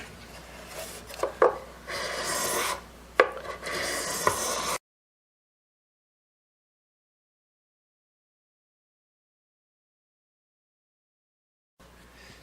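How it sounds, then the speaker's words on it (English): Wooden mandolin binding being trimmed flush, a rough scraping and rasping close up with a few sharper knocks, running about five seconds before dead silence and a brief return at the end. "It's standing proud about 1/16 of an inch all the way around, so all that has to be trimmed down."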